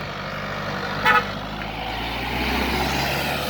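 Steady road traffic rumble at a bus terminal in Bireuen, Aceh, with motorbike and bus engines idling and passing nearby, broken by one short vehicle horn toot.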